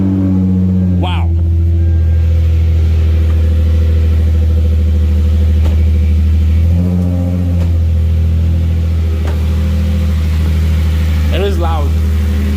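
A freshly swapped 3.8L engine in a Hyundai Genesis runs loud and close after its first start-up, with a steady deep idle drone and a slight rev dip partway through, filling the whole stretch.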